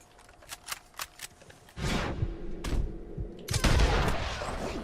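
Bolt action rifle shots in Red Dead Redemption 2 ring out as a few sharp cracks, with loud blasts and rolling echo in the second half following fainter earlier pops.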